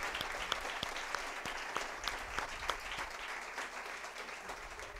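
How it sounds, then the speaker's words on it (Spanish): An audience at a talk in La Platea gives a strong round of applause for Salvador Simó and Laura Ortiz, steady dense clapping heard from within the crowd. "Un fuerte aplauso para Salvador Simó y para Laura Ortiz"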